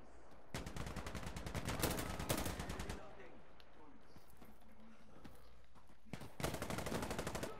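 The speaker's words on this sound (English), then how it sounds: "motherfucker shooting at my ass" Gunfire in the video game Insurgency: Sandstorm: long bursts of rapid, close automatic fire at the start, a quieter stretch with faint distant noise, then another loud rapid burst near the end.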